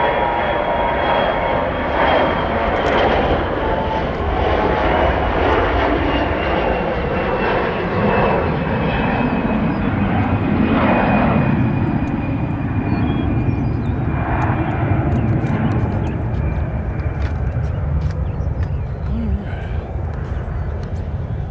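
A Southwest airliner landing at Nashville International Airport gives off a loud, steady engine roar that fills the whole stretch with little change. A thin whine runs through it, and tower radio talk sits underneath.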